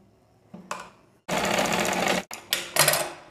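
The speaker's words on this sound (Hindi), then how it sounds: "और फिर हम यहाँ पर सिलाई लगा लेंगे।" A sewing machine stitches a small zip pouch in loud, close bursts: a couple of short runs, then a steady whirring stretch of about a second, then more brief stop-start runs, with no talking.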